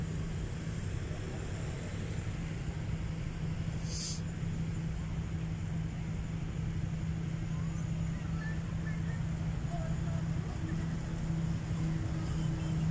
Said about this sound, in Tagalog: may naririnig tayo ugong ng bangka,